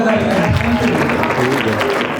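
Applause from a mixed audience of children, youth and adults at a Christmas quiz activity, a dense, steady patter of clapping filling the whole short stretch with a few voices mixed in.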